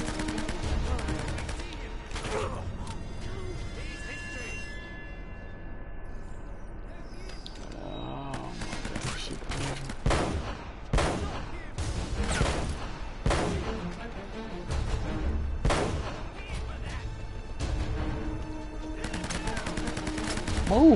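Gunfire in the video game Uncharted: Drake's Fortune, repeated sharp shots and bursts scattered through a long firefight, close and loud, with someone talking at times.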